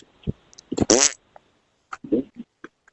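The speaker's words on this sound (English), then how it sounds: "Why are you farting in my ear?" Fart heard through a phone call, a short buzzy tight burst with a ripping tone, followed by a few faint thumps and muffled sounds, no talking.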